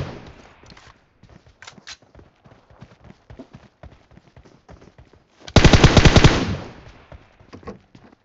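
Burst of automatic gunfire in PUBG on the Erangel map, a loud rapid rattle lasting about a second and a half midway, amid quieter scattered clicks and footstep-like taps.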